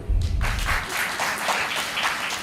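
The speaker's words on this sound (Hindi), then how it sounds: "चलो अपने लिए एक बार ताली बजाओ।" An audience at a keynote talk at an international media event breaks into applause, a dense wash of clapping that swells after a brief low thump at the start and holds steady through the clip, moderately loud.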